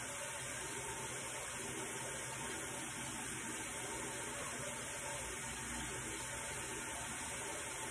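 Warm water runs steadily from a tap during face washing at bedtime, a continuous broadband rush that stays even and fairly close throughout with no voices.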